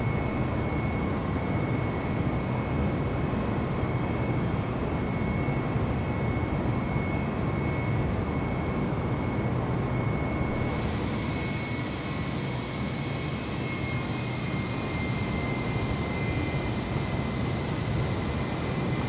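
Airbus A320 airliner engines in Microsoft Flight Simulator on Xbox Series X, a steady loud low roar with a constant whine, continuous and unchanging, with a higher hiss added partway through and no talking.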